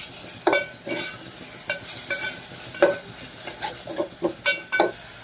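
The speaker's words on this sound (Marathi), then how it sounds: "टाकायचं त्याच्यात हे वाटून घेतलेलं खोबरं अद्रक लसूण हे सुद्धा चांगलं ह्याच्यात परतून घ्यायचं" A ground coconut, ginger and garlic paste is sautéed with tomato and onion for paneer pulao, with spoon scrapes and clinks against the pan in an uneven rhythm over a light sizzle, close up.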